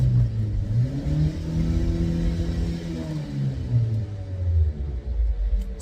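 Humming wheel hub bearing on a 2008 Opel Zafira B with a 1.8 petrol engine, heard from inside while driving: a low, steady drone that rises and falls in pitch with road speed, with no talking over it.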